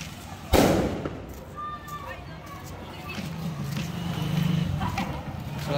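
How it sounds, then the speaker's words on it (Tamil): Firecrackers burst at a temple festival for Murugan in Cuddalore, one sharp loud crack near the start, followed by a lingering outdoor crowd hubbub and traffic noise. "இங்கே பார்த்தீங்கன்னா வெடி கூட வெடிச்சுட்டு இருந்தாங்க."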